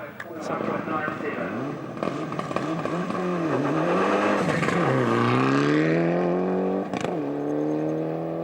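A Mitsubishi Evo 6.5 Group A rally car at a rally sprint, engine revving loudly and climbing through the gears as it accelerates nearby, with a brief lift and a sharp crackle before the engine pulls hard again.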